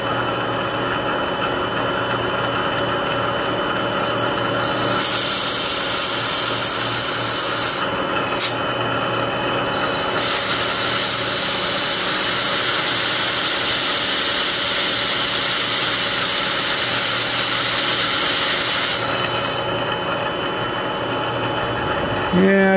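A machine tool spins at about 2200 RPM to cut out a stripped bolt from a mountain bike stem, with an air blast clearing chips; a loud, continuous whirring and hissing drone holds steady throughout, and someone talks briefly.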